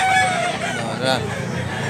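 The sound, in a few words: rooster crowing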